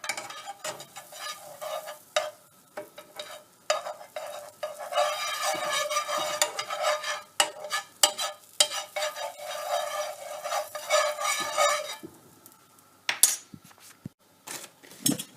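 An omelette mixture fries in olive oil in a pan while a utensil stirs and scrapes it. Close, irregular clinks and scrapes sit over a steady sizzle, then a quieter stretch follows, with no talking.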